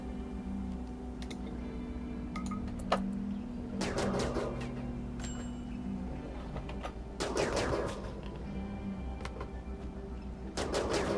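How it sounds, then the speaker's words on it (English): Gunfire in the Rimworld video game comes as several short bursts of sharp, crackling shots spread across the stretch, moderately loud over a steady background hum, with a few faint clicks between. "Gunshot."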